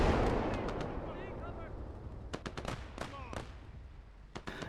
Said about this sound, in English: There goes my third salvo from the land mattress rocket artillery.